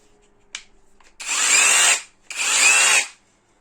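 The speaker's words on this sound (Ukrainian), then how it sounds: "Непогана якість перфоратором." WORX 20V cordless rotary hammer runs in two separate bursts of drilling, each lasting under a second, close and loud, with a short click before them.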